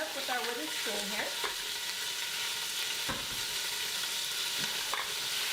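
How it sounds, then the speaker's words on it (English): Steady crackling sizzle of ground beef browning in a pot for chili, with a few scraping wooden-spoon stirs and brief clinks near the start. "The sizzle, my favorite sound."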